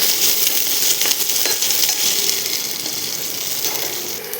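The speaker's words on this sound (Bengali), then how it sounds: "ওই তেলেই আমি আলুটা কিছুটা ভেজে নেব" Potato pieces frying in hot oil for paneer sabji, a steady, close sizzle and crackle running throughout with faint clinks, no talking.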